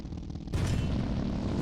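A heavy tank cannon fires in the Sprocket tank game from a tankette fitted with an oversized gun, a sudden loud boom that rolls into a sustained rumbling echo.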